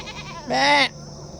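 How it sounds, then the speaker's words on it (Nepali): A goat at a village home among orange trees lets out a single bleat of about half a second, fairly loud and close, over a low steady background. "अनि यहाँ बाख्रा"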